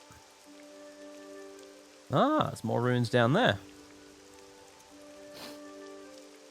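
Steady soft hiss of rain falling in the video game Morrowind on a foggy outdoor scene, continuous in the background while someone talks briefly over it.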